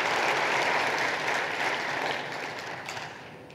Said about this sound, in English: how about another big round of applause for the